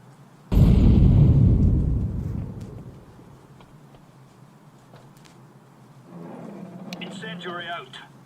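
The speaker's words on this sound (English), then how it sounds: "Grenade out." A video game grenade explodes with a sudden loud boom that rolls off over a couple of seconds, followed later by a voice talking.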